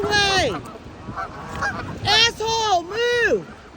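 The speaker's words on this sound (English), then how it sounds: "Come on, asshole goose, get out of the way!" A goose on a beach lets out loud, close honks in uneven bursts, each call a harsh nasal blare that falls off at the end, with a quieter honk between them; no voices.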